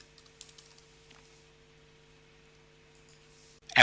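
A password being typed on a computer keyboard: a handful of soft, quiet keystrokes clustered at the start over a steady low electrical hum, then near silence before a louder sound at the very end.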